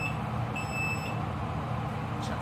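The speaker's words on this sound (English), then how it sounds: "My timer just went off, so this is done." A kitchen timer beeping while a small batch of strawberry rhubarb jam cooks without pectin: a brief burst of thin, high electronic beeps over a constant background hum.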